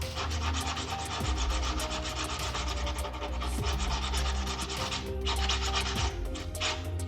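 Sanding the chassis of a 1:8 scale 3D-printed Halo Warthog model to add battle wear, a continuous close scratchy rubbing that runs steadily and fairly loud for the whole stretch.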